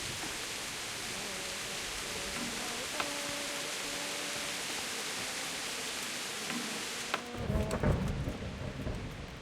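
Steady rain pours through a Kingdom Come video game scene, a dense continuous hiss, and a deep rumble of thunder rolls in near the end, loud and close.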